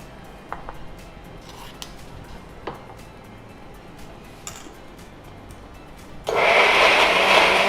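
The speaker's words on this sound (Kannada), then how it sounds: "ಮಿಕ್ಸಿ ಮಾಡಿ." Several light clinks and taps of a kitchen mixer grinder jar come first, then the motor roars on loudly and steadily, blending cooked horse gram into a filling for holige.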